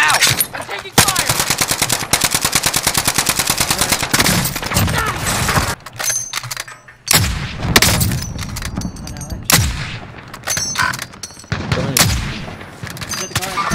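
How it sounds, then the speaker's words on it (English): Dense, sustained automatic gunfire and shotgun blasts from a first-person shooter video game, with rapid bursts and brief pauses, loud and up close throughout. "I'm taking fire!"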